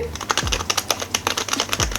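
Rapid clicky keystrokes on a red LED gaming keyboard, close and fairly crisp, tapping in an irregular quick rhythm with no talking.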